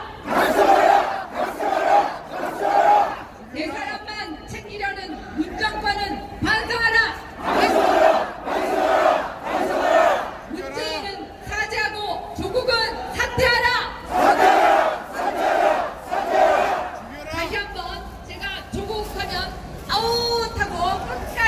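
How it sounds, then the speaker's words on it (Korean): A large crowd at a Korean political rally in September 2019, protesting the Moon Jae-in government and demanding Cho Kuk's resignation, shouts and chants in loud, rhythmic waves that swell and fall again and again throughout. "끝까지 함성을 연장해 주시기 바랍니다"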